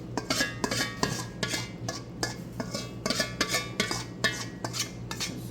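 Wet ingredients are folded into dry for a blackberry coffee cake batter, giving a steady series of soft clinks and scrapes of utensil against bowl. The strokes come in a regular rhythm, close and fairly quiet, with no talking.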